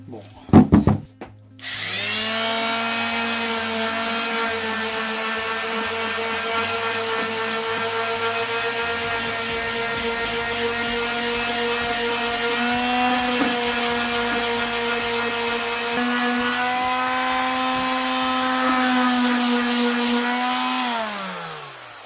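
A power sander works a steel part from a Case 580F tractor loader with a continuous loud, steady whine that runs for about twenty seconds after a few brief knocks, then winds down at the end.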